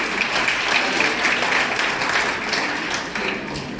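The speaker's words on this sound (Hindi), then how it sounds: "शानदार ताली बजाएं" Loud, close applause from a seminar audience, many hands clapping steadily for a few seconds.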